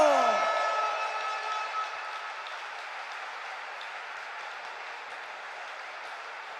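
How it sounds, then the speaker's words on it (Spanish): Sustained applause and clapping from spectators in an arena for a boys' youth volleyball national runner-up team, steady and fairly distant after a brief fading tone at the start. "Fuertísimo aplauso para este equipón, el subcampeón de España de voleibol."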